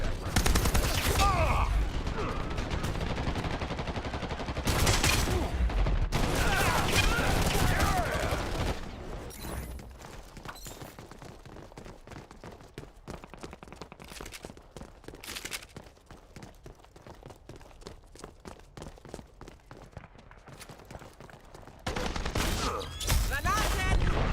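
Gunfire crackles through a game firefight, dense bursts of rapid shots at the start and end with sparser, quieter sporadic pops between, and voices talking at moments.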